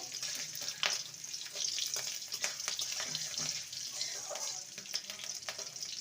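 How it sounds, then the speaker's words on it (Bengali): Slit green chillies fry briefly with tempering spices in hot oil, giving a steady broadband crackle with scattered pops and a few scraping stirs, close by, no talk. "দুটো চেরা কাঁচা লঙ্কা ফোড়নটাকে কয়েক সেকেন্ড ভেজে নেব"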